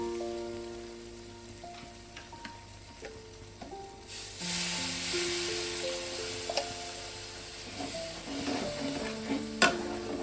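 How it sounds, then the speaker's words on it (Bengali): Spiced masala thinned with water is stir-fried for chana masala, giving a steady sizzle with scraping stirs that grows louder midway, over soft background tones. "জল দিয়ে ভালো করে মশলাটাকে আমি আবারও মিনিট 2 কষিয়ে নেব।"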